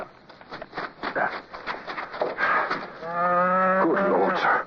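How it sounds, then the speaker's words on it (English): A cow lows nearby, one drawn-out moo rising over the tail of hushed dialogue in a radio drama scene, with faint rustling and ambient noise around it. "It's a cow."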